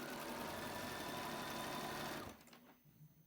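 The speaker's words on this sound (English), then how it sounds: "Now my machine ties a knot, that's okay, and then stitch across." A Bernina sewing machine stitches a pillow slip with a rapid, steady mechanical whir close by, running for about two seconds and then stopping abruptly, leaving faint handling noises.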